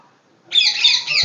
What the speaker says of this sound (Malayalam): വലിയ കേജാണ് ഇത് നിറച്ച് തത്തകളെയാണ് ഇട്ടിരിക്കുന്നത്